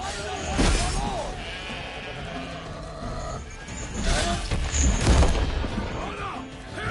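Sheep bleat repeatedly in The Witcher 3: Blood and Wine, loud and close, amid a busy combat scene with clashing impacts, crashes and raised voices.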